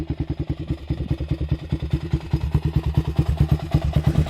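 A 400cc quad's engine idles after warming up, a loud, close, steady rhythmic chugging with a slightly rattly, uneven thump throughout.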